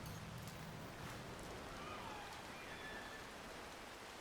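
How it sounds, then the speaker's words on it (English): Steady rain falls in the video game No Man's Sky on a tropical moon among massive purple trees, a continuous soft patter with no voices over it. "Maybe it's because the rain makes it hard to see."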